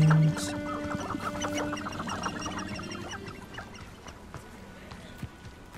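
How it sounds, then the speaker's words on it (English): Chickens cluck in the video game Hogwarts Legacy, a few short clucks and calls near at first, fading over the following seconds against quiet game ambience. "Chickens."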